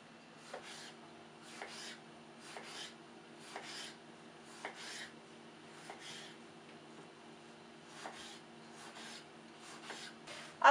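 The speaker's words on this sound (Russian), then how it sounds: "И сейчас мне нужно нарезать один помидор." A knife dicing a tomato taps rhythmically on a cutting board, evenly spaced chops repeating steadily at close range with no talking.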